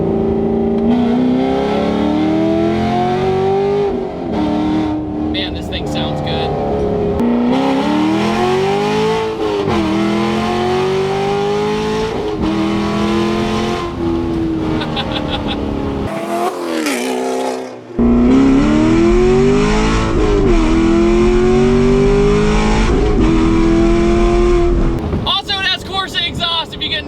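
Cammed C7 Corvette running E85 with long tube headers, its naturally aspirated V8 roaring loudly through repeated rising revs and accelerations, with wind noise and a brief drop in the middle.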